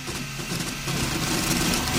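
A Riki200 v3 pulley-style 3D printer with doubled-up belts runs at high speed, giving a loud, continuous whirring and buzzing motor drone that swells slightly partway through.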